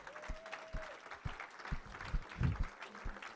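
A church congregation at a French-language service applauds, with scattered claps building into a brief burst of fairly quiet clapping in a reverberant hall.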